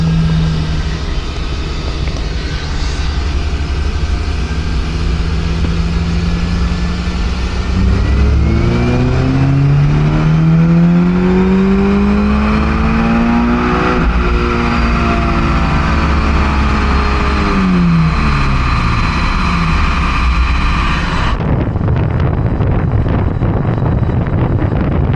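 A Toyota GR86 or Subaru BRZ at full throttle on a dyno, engine note climbing steadily through the gears as it revs toward redline, loud and close, then cutting off sharply to a lower idle rumble near the end.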